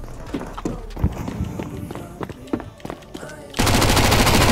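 Rapid automatic gunfire in Counter-Strike 2, with scattered bursts and footsteps giving way to a dense, sustained stream of shots near the end; game noise throughout.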